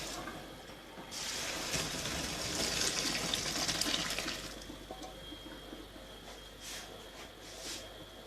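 Water drained from cooking pasta for macaroni in a home kitchen, a soft gushing pour that swells for a few seconds and then trickles away into faint drips, heard quietly with no talking.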